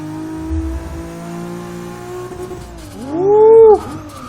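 Single-turbo 2JZ engine in a Lexus SC300, a luxury Supra-powered coupe, idling steadily then revving hard toward redline in one loud rising sweep that cuts off sharply, close and with no talking.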